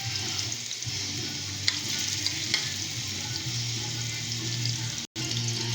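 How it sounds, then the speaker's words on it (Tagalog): Garlic and onion sauté in a frying pan with a steady close sizzle and hiss, a faint low hum underneath and a few light stirring clicks, broken by a brief dropout near the end. "Ayan, so magigisa na tayo"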